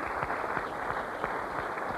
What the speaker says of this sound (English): I'd just like you to just clap.